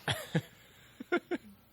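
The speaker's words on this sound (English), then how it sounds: "Cough." A few short, dry coughs in quick bursts, close and moderately loud, with a brief pause between the first pair and the next.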